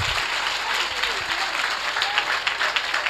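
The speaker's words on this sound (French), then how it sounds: "Acclamez Jésus" A church congregation applauding during a service, with dense, sustained clapping and some crowd voices mixed in.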